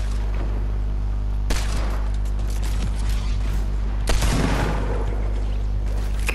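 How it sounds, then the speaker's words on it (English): Gunfire from a compact SMG in the video game Fortnite, a sustained noisy burst with sharp louder bursts near the start and middle, loud over a constant low hum. "all I get is spammed with a compact SMG from behind"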